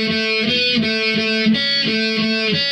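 An electric guitar plays the intro riff of a song slowly, with a repeating pattern of ringing, sustained notes picked in a steady rhythm, close and clear, with no voices.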